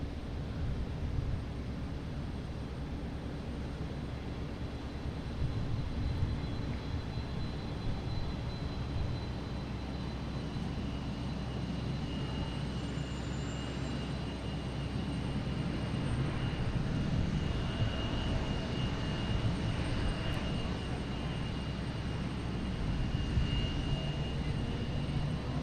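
An American Airlines airliner on flight 2247 from Miami arrives at Boston Logan, a steady broad engine roar that holds at a fairly even level throughout, with no talk over it.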